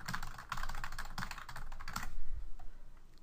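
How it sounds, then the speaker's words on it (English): Keys clatter on a computer keyboard while a forum post is typed, a quick irregular burst of clicks that runs steadily for about two seconds, then trails off into near silence with a faint low thump. "typing your post"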